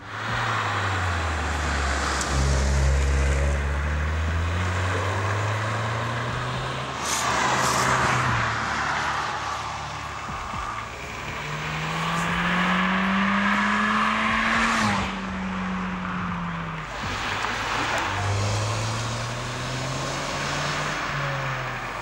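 A sporty, lively little city car drives by with its engine revving and shifting through gears, rising and falling pitch over a continuous road and wind roar, with a faint tire squeal, and no talk.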